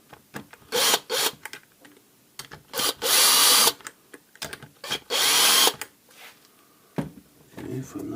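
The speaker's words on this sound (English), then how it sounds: "What I usually do is take the opposite screws out, and then these two I let them out" A power driver unscrews screws on a Karcher K5 pressure washer in short whirring bursts separated by pauses, close up, with someone talking between them.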